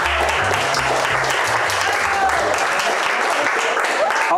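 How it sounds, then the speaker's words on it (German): An audience at a wine and harp event gives Lisa a burst of steady, dense clapping, loud and close, sustained for several seconds with a low musical tone underneath at first. "Applaus, Applaus für die Lisa"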